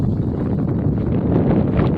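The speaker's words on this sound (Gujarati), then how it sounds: "પવન છે સાથે સાથે એટલે બહુ તો નથી વાંધો આવે એમ" Wind blows steadily outdoors in a village under a cloudy sky, a continuous rough rumble buffeting the microphone for the whole stretch, with no voices.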